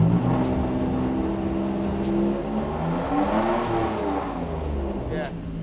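A Jeep JK Wrangler engine idling, then revving and held near 2,000 RPM through a drive-by-wire throttle controller. The steady mid-pitched drone rises and settles, close by, with someone talking over it.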